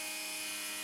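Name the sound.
angle grinder with Kutzall/Graff disc cutting timber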